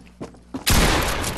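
Two soft taps come first, then a loud gunshot in Fortnite bursts out and trails into a dense, rumbling crackle.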